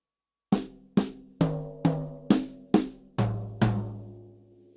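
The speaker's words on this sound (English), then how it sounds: "we're splitting it between snare, first tom, snare, and floor tom" A one-bar fill of even eighth notes split between snare, first tom, snare and floor tom: eight crisp, evenly spaced strikes heard close and alone, each ringing briefly, with the final hits deeper.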